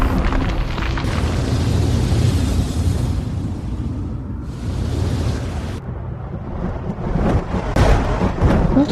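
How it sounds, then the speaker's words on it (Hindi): Thunder in a cartoon scene, a loud, sustained deep rumble rolling overhead for several seconds, swelling and fading with a few sharper cracks, no speech. "तो फिर ये बादल का गरज रहे"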